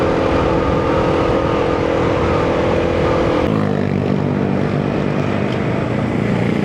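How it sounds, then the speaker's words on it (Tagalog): A motorcycle riding without its lights on passes close by with a loud, steady engine drone whose pitch drops partway through as it goes past. "Grabe ng motor to, walang kailaw-ilaw."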